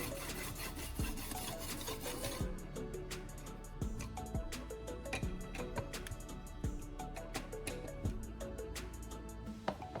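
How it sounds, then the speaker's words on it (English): A knife blade is rubbed repeatedly against a sandpaper block in steady, rhythmic rasping strokes, close and fairly quiet, with no voices. "I flip the knife and the sanding block to sharpen the other side"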